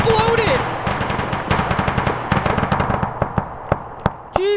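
A net call strike explodes in a video game: a rapid, loud chain of gunfire-like blasts that thins into sparser, separated booms and pops as it tails off.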